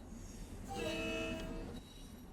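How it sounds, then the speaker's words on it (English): Simulated train horn on a Harlem Line train in Train Sim World 2, a single sustained tonal blast rising over steady rail rumble and fading after about a second. "You should sound the horn once on approach."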